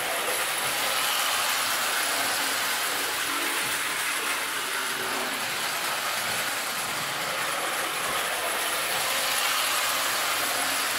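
1930s Hoge 900 toy train running at low transformer power, a continuous close mechanical whirring and rattling hum with steady level throughout, no voices.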